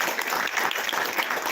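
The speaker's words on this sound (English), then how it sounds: "So please, everybody clap." Audience applause during a Bhagavad Gita class, a dense, even burst of many people clapping close by, continuous for a couple of seconds.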